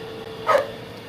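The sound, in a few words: dog barking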